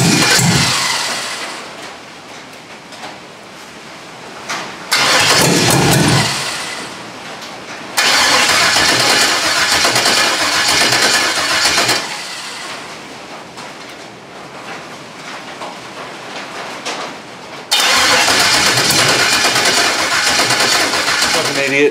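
A Ford Foxbody Mustang with a swapped-in LS engine cranks repeatedly, the starter whirring loud and close in long bursts of several seconds each, with brief pauses between attempts.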